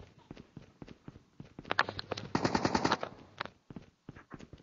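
Rapid bursts of automatic gunfire from a Call of Duty battle royale match, sharp repeated shots clustering into a dense volley in the middle, fairly close and loud, with no talk over it.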